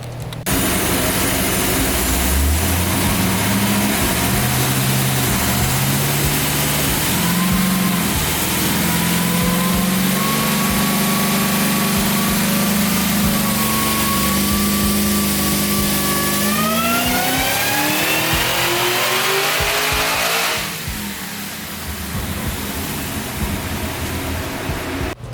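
A supercharged Cadillac CTS-V with a ported Kong 2650 blower revs on a dyno. Its engine note climbs steadily through one long, loud pull before dropping back to a lower idle.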